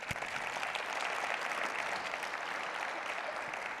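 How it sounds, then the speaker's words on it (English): A lecture audience applauds steadily in a hall, a dense, even wash of many hands clapping throughout with no talking over it. "So a big round of applause for my more junior colleagues who gave"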